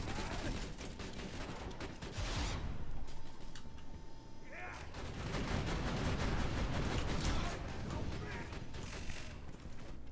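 Borderlands 2 gunfire crackles as rapid, fairly quiet bursts of shots and mechanical clatter run through the whole stretch, mixed with game noise, while players talk over it.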